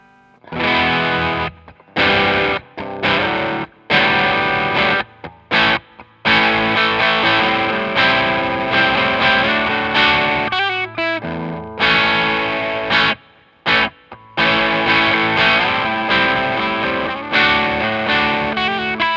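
An electric Les Paul guitar played through a Catalinbread Karma Suture fuzz pedal produces thick, distorted chords and riffs in loud bursts with brief silent gaps, close and alone without voices.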